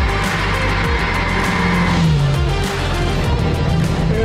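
A supercar accelerating hard at high speed, a loud continuous engine roar with rising and shifting pitch, heard close from inside the car with no talking.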